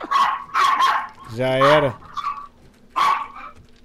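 A dog in the survival video game 7 Days to Die gives a short, loud barking yelp, heard between bursts of excited talking from players.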